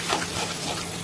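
A small splash of water pours briefly into a cooking pan while tender young stems and shrimp cook for a Bengali dish, a short, soft gush with no voices.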